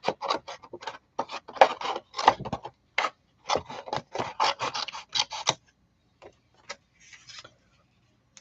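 Scissors snip through paper while cutting out a paper figure, a quick series of close, crisp cuts in bursts that trails off into a few sparse snips and quiet handling.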